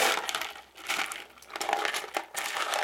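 A homemade chopper bites through murrini glass cane with sharp crunching snaps. Several cuts come in quick succession, and the gritty crackle sounds close to the listener.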